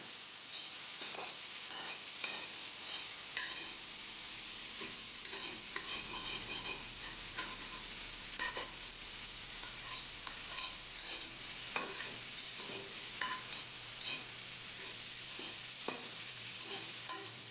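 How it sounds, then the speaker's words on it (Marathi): Ghevda bean pods sautéed in spice masala in a pan, giving a steady low sizzle broken by frequent scraping stirs and light ticking clicks of the spoon against the pan throughout. "या मसाल्यामध्येच आपण घेवड्याच्या शेंगा चांगल्या परतून घ्यायच्या"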